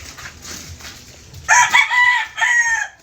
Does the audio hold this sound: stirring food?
no